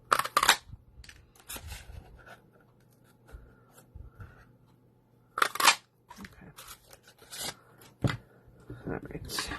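Scissors snip out paper pieces for a handmade birthday card in a series of short, crisp cuts with quiet gaps between them, close to the listener, over faint paper rustling and low room hum.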